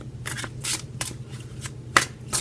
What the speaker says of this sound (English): I'm just going to kind of shuffle and I'm going to pick some cards